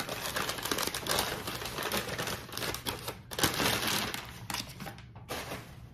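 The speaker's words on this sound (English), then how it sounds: "So I'll unwrap one so you can see what it looks like." Crinkly paper wrapping rustles and crumples continuously up close as a Fire King 2-quart glass casserole, mid-century modern in style, is unwrapped, with brief pauses between bursts of crackling.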